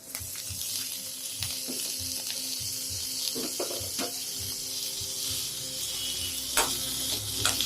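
Onion and tomato hiss in hot oil with curry leaves while tempering for South Indian curd rice, a steady close sizzle running under soft regular stirring taps throughout.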